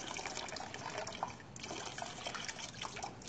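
Water sloshing and trickling inside an LPG gas cylinder that was filled with water instead of gas, a steady wet gurgling and dribbling close by, alone with no talk.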